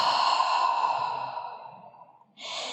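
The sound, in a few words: deep breathing exhale during yoga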